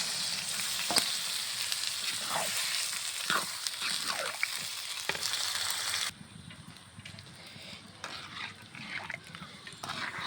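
Potato and pointed gourd curry with meat simmering and being stirred in a pan after broth is added, a soft steady sizzle with scattered scraping clinks of a spoon, the bubbling quieting partway through.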